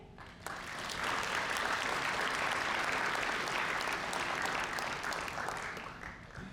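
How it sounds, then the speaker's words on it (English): Sustained applause from a crowd at a December graduation ceremony at Juniata, rising quickly and holding steady for several seconds before tapering slightly at the end, with no talk over it. "Let's give a big round of applause for all you've done to get to this seat today."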